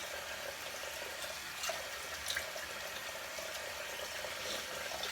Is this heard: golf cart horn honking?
no